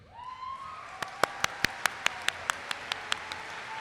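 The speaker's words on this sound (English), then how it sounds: "No, you don't need to applaud them." Graduation ceremony audience applauding, starting with a tonal hum then a run of about a dozen sharp, evenly spaced claps, loud and close, with no talk over them.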